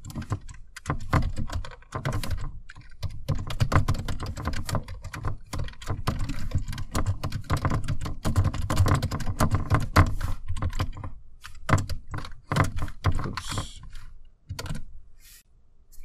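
Fast, continuous typing of code on a computer keyboard, dense clicky keystrokes heard close up with short pauses between bursts and no talking.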